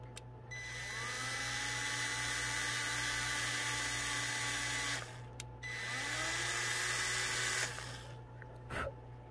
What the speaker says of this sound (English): Take your time and let the drill bit do the work.